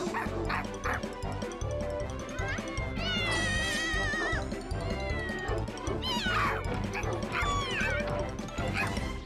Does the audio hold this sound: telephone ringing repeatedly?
no